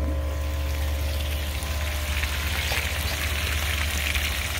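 Water rushes continuously out through an opened valve with a steady hissing, gushing flow under a low hum, close and fairly loud.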